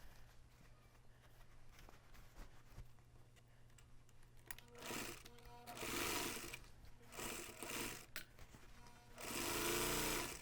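A sewing machine runs in bursts while stitching a seam on a front panel, quiet whirring at first, then louder sustained runs with short pauses between them, close by and with no talk.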